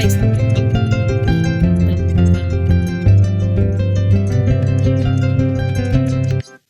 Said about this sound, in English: So you heard that bass line, that dum dum bum ba dum ba dum.